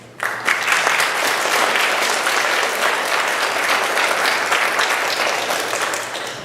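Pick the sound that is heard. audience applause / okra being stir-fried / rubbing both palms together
audience applause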